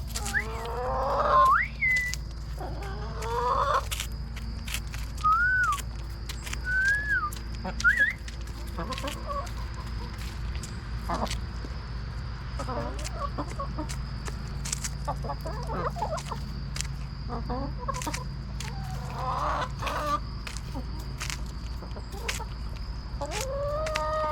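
Chickens cluck and squawk inside a barn, with bursts of rising calls scattered across the clip over a steady low hum, close and moderately loud.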